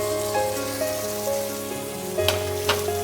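Pointed gourds tumbling into hot oil in a pan for a Bengali vegetarian mixed-vegetable curry, giving a steady close sizzle with a couple of sharper crackling bursts near the end, no voices.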